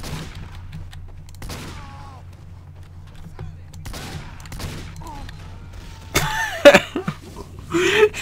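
Team Fortress 2 gunfire pops in scattered, crisp shots over a low steady game hum, growing into louder, denser bursts toward the end.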